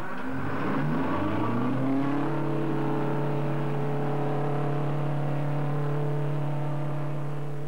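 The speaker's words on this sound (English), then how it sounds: "Tons of stone in the skip are carried by the dumper truck to the crusher." Dumper truck hauling tons of stone in its skip to the crusher: a heavy diesel engine revs up, then settles into a steady, loud, sustained drone with no voices.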